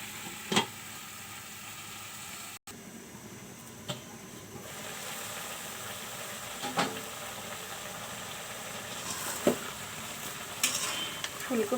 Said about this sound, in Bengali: ঢেকে দিয়ে ফুলকপি আলুটা ভালো করে একটু কষিয়ে নেব।